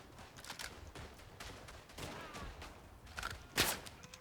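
Gunfire in the World War I shooter Verdun: scattered rifle shots, some near and sharp and others distant, pop irregularly across the scene, with a louder crack near the end.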